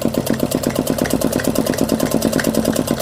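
A sewing machine runs steadily, stitching along marked fitting lines on a 36-inch ladies' suit, a fast, even mechanical rattle of needle strokes, close and continuous with no pauses or voices.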